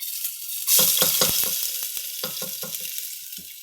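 Garlic dropped into hot oil bursts into a loud sizzle, followed by several crackling, rhythmic spurts of frying as it is stirred in the pan.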